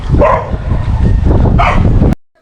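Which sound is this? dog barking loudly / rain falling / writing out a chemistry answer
dog barking loudly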